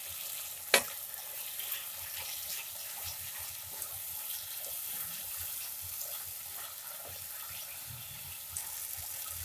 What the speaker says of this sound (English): Saute till the tomatoes are soft.